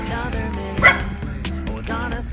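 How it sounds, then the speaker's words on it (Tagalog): A dog barks sharply a few times nearby along a hillside subdivision road in Naic, Cavite, loud and clear over faint background noise. "May aso."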